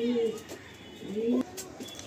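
A pigeon gives soft, low throaty coos, two rising-and-falling calls close by against a quiet room background.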